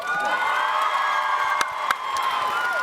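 A large audience at a TwitchCon convention panel cheers and whoops loudly, a dense sustained roar of voices with a couple of sharp claps or shouts cutting through.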